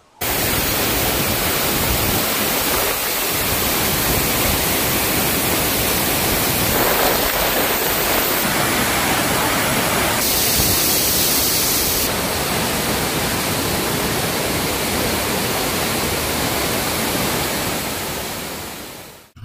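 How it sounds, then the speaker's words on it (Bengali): Tiger waterfall at Mainpat, Chhattisgarh roars in a loud, constant wash of falling water that stays steady throughout, with no talking. "উপভোগ করুন এই জায়গার সুন্দর আর শান্ত পরিবেশকে, আর এই টাইগার ঝর্ণার গর্জনকে।"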